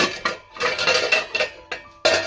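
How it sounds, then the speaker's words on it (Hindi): A milk pot is pulled out in a home kitchen, with a quick run of close metallic clanks and scrapes of pots and utensils knocking together in uneven bursts, heard alone without talk. "दूध का बर्तन निकालो"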